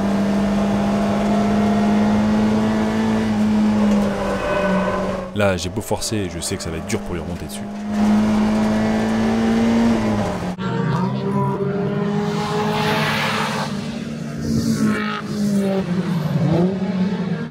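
A race car engine holds a steady high drone through a racing lap, shifting pitch around corners with a brief burst of tire noise, while someone talks over it throughout.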